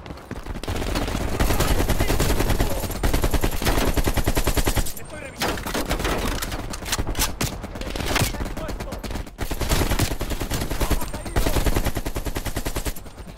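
Rapid AK rifle bursts from the video game Call of Duty Cold War, loud dense automatic fire nearly continuous with brief pauses between volleys.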